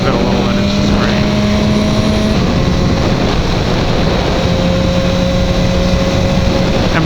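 A BMW S1000R motorcycle engine braking in second gear gives a steady, close mechanical drone with a held tone that dips and settles while the rider's speech runs over it.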